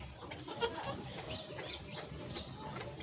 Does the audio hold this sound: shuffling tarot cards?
no